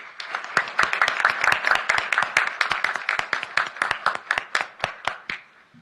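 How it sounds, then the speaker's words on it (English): A small audience at an academic honors convocation claps for the faculty, with distinct individual claps that are fairly brisk at first, then thin out and slow to a few last scattered ones. "Let's have another round of applause for our faculty."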